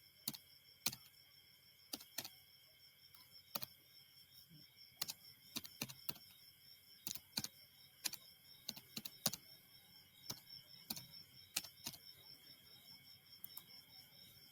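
Irregular clicks of an email address being typed on a computer keyboard, sparse, crisp keystrokes over a faint steady high-pitched hiss, with no speech.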